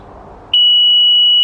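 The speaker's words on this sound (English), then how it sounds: "So I always set mine on the slowest speed of 2 beeps." A Hansshow motorised frunk on a Tesla Model S gives a single loud, steady electronic beep during setup, a clean sustained tone starting after a brief quiet moment.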